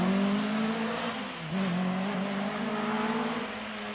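A much-modified BMW 2002 races up the Prescott speed hill climb, its engine note loud and steady with a strong harmonic drone and a brief dip around a gear change before climbing again.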